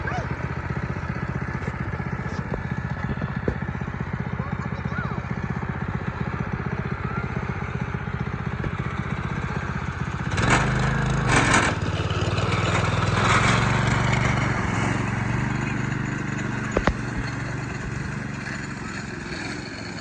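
A small go-kart engine idles with a loose rattle, a steady close chugging putter with metallic clatter that briefly rises in speed midway, while people talk nearby.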